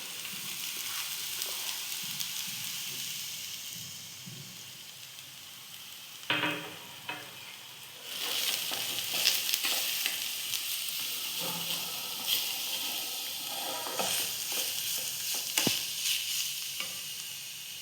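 Carrot being stir-fried with squeezed cabbage for veg momo filling, a steady sizzle running throughout with scraping stirs and clinks of a spatula, no voices.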